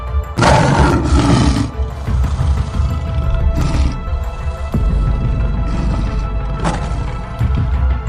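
Lions roar loudly in a den, heavy rumbling roars rolling one after another across several seconds, with deep thuds beneath and no talk.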